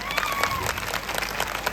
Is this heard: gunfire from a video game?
no